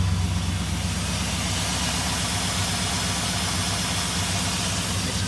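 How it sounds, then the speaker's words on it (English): LS-swapped 1985 Chevrolet C10 idling through MagnaFlow mufflers, a steady, mild low rumble with even pulsing, close and continuous with no other sounds. "They have a nice tone at idle, nice and mild"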